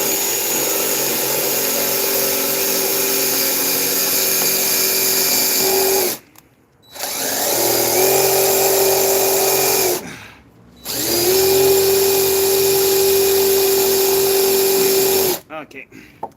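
A power drill runs in three long sustained bursts with a steady whine, pitch dropping slightly as the worn bit bites into the material, separated by brief silent gaps, loud and close.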